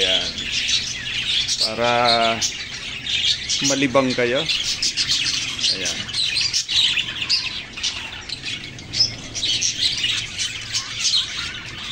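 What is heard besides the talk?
pet budgies, cockatiels and pigeons chirping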